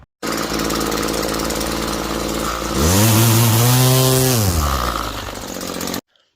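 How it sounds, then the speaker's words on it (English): A gas string trimmer whines loudly and steadily up close while cutting an overgrown lawn, its pitch rising as the engine revs harder mid-clip, then falling back before it cuts off abruptly. "And so I'm gonna go over and get all this weed whacking done."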